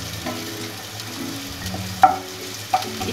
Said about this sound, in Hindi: ज़्यादा नहीं भूनना है, हल्का सा सौते करना है।